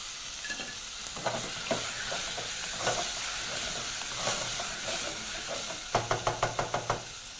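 Beef frying in a pan for biryani while being stirred, a steady sizzle broken by repeated spoon knocks and scrapes, ending in a quick burst of rhythmic taps, close up with no speech.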